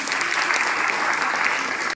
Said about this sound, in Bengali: প্রত্যেকেই বলবো এই দুজনের জন্য একটা করতালি দেওয়ার জন্য